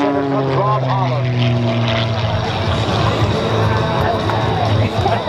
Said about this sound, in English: The MXS carbon fiber aircraft can withstand up to 16 G's.